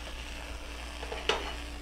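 Water droplets sizzle and skitter in a hot pan heated for searing, a faint crackle with one brief sharp hiss near the end.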